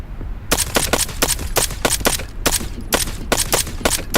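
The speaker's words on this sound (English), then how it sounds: "my bullets are going around him" Rapid bursts of video game gunfire, a dozen or so sharp shots in uneven rhythm, loud and close with no talking over them.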